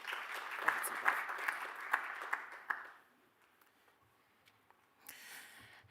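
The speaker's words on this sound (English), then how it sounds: "please give our panel and moderator a round of applause" Audience applause at an Africa Week conference session for a panel and moderator, with loud, sharp claps for under three seconds before fading to near silence, then a brief murmur of room noise.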